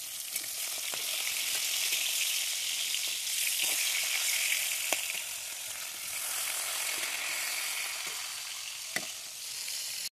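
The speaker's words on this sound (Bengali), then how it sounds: "এদিকে মাছ ভাজা হচ্ছে।" Fish sizzles steadily in hot oil in a pan, a continuous dense crackle with occasional sharper pops and clicks, close and alone with no talk.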